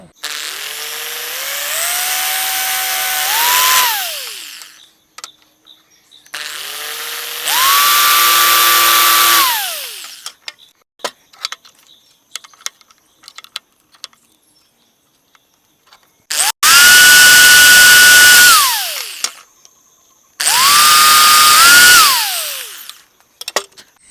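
A power drill bores a hole in PVC for a homemade water air cooler in four separate loud bursts, each spinning up in pitch, holding steady, then winding down, with quiet gaps between.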